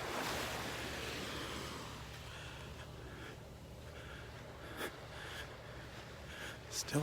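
Ocean surf rolls onto Area 2 beach in North Naples, Florida, a steady broad wash of waves with wind buffeting the microphone and a few louder surges near the end.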